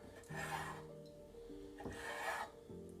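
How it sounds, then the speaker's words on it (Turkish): A knife slices meat into thin strips for a meze, making two soft, close rasping strokes, each about half a second long, against a faint tonal background. "ince ince kesiyorum. Kesebildiğim kadar ince ince."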